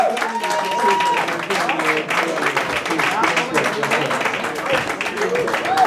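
Steady clapping from a comedy roast battle audience in Berlin, dense and moderately loud throughout, mixed with crowd noise and voices shouting over it.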